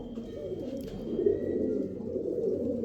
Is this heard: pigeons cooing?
yes